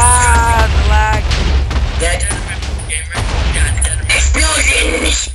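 Loud, dense game explosions and booming blasts pile up over continuous chatter from several excited voices, with crackling bursts throughout.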